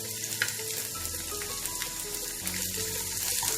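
Onions frying in a pan for misal pav, a steady close sizzle running through the whole stretch with faint kitchen clatter and no talking.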